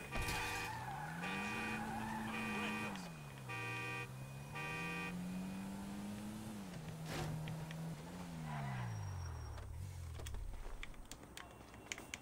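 Car driven in a video game, engine revving up and down through gear changes with a rising and falling pitch, tire squeals and skids as it corners, steady and fairly close, with brief game chimes layered in.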